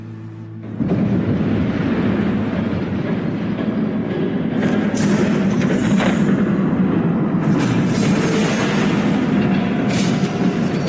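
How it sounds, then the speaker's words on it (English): A train rushes past in Batman: The Telltale Series, a loud, steady rumbling roar that rises abruptly after a brief quiet start and holds for about ten seconds, with hissing and clattering bursts layered on top. "There's a train coming."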